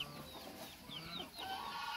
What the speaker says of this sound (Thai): ตอนนี้ไก่ก็กินนะครับอันเล็กๆครับสับๆ ไก่จิก